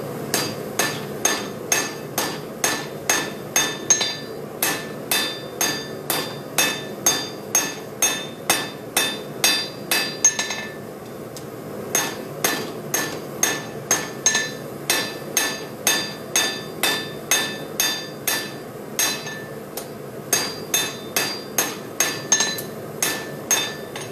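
A blacksmith hammers a knife tang on an anvil during a knife-making demo: dozens of bright, ringing metal strikes fall in a steady quick rhythm, with brief pauses between runs, close and clear with no talk.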